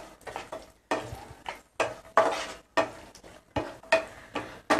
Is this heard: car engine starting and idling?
no